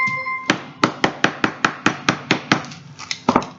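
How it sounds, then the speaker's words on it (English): A hammer strikes chocolate on wax paper about a dozen times in a steady rhythm, each sharp knock close and loud. "I can whack with the hammer again."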